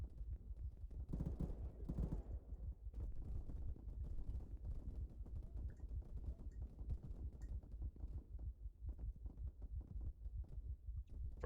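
Gunfire in the military simulation game Arma 3 sounds as a dense, rumbling stream of rapid, muffled shots, steady and heavy throughout.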